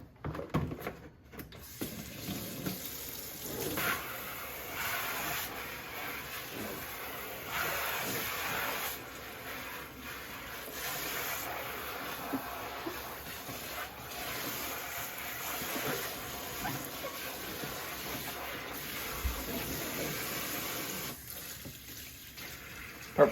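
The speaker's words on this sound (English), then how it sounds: "Now it's important to wash these. I use soap and water" Tap water runs steadily while chestnut seeds are washed with soap, a continuous splashing rush with small clatters and shifts in the flow, lasting over twenty seconds without talk.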